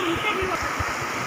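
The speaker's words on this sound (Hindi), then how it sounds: "झरना का पानी देखिए वहाँ से बह के आ रहा है।" The Nandeshwar Mahadev waterfall flowing, a steady broadband rush of falling water heard from a nearby iron footbridge, with a faint murmur beneath.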